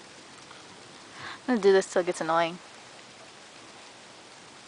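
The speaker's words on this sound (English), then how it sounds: "Raining. It's pouring." Steady rain keeps up a soft, even hiss throughout, and a person briefly talks over it partway through.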